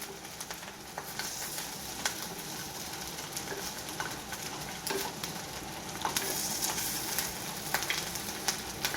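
Farali moraiya tikki frying in a pan on low gas, a soft steady sizzle and crackle with scattered pops, fairly faint and continuous.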